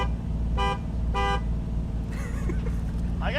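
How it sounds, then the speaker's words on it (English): Three short car horn honks sound over the steady idle and rumble of cars lined up for a rolling touge race between a Toyota Chaser and a Jaguar JZX100, with other engines revving in the background. "Wait, on the third honk, we go?"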